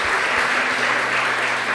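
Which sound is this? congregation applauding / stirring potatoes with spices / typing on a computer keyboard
congregation applauding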